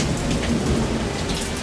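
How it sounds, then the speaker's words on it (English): Steady rain falls outside a Leopard 45 catamaran, a dense, even hiss of drops drumming on the surfaces with no gaps and no voices. "But it's raining out."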